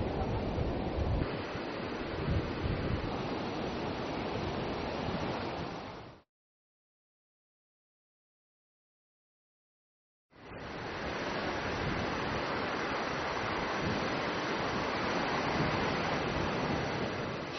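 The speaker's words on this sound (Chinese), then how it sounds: "风浪越来越大了" Strong sea waves and wind on a rough coast roar as dense, broadband surf noise, loud and continuous, cut by a few seconds of silence before resuming.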